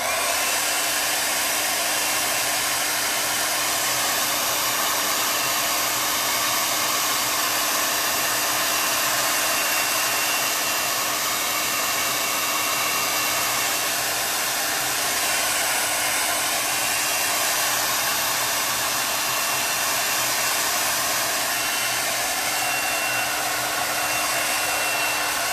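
A hair dryer blows steadily and close for the whole stretch, drying chalk paste on a fabric scarf, a loud continuous broadband hiss with no pauses.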